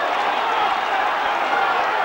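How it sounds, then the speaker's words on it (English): A rugby league crowd at Bradford versus Warrington in 2009 roaring after Sykes' 40-20 kick, a broad, steady wash of cheering and applause from a large stadium audience. "And the crowd going to raptures."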